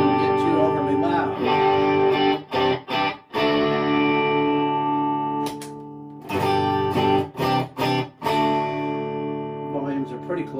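A Fender Pugilist bass distortion pedal gives a distorted, gritty bass tone with sustained notes and several abrupt stops, played close and moderately loud without talk.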